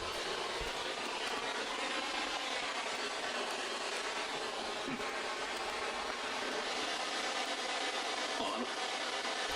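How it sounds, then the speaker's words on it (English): A train rolls past outside, a steady broadband rumble and rushing roar that holds at a constant, fairly loud level throughout, with faint rubbing and grinding textures from the wheels and cars. "A train outside or something? Yeah, it sounds like a train."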